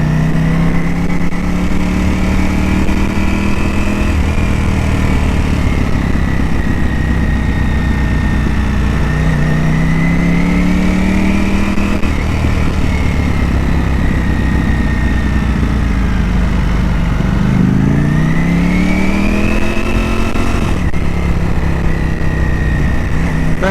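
A Ducati motorcycle is ridden on roads near Akuna Bay in Sydney. Its engine drones loudly and continuously, rising and falling in pitch as the rider shifts and changes speed, with wind rushing over it.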